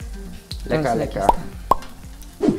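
A chile relleno sizzles in hot frying oil and is flipped over, giving crackling bursts and plops; a person talks over the frying.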